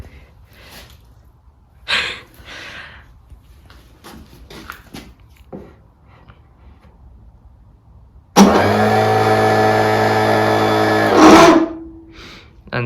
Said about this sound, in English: starter motor turned quite nicely there and has returned back to its original position